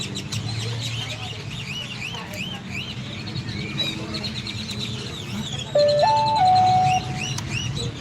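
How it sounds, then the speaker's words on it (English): Birds chirp and tweet outdoors in a steady scatter of calls, with a brief electronic tone sounding near the end. "You hear the birds."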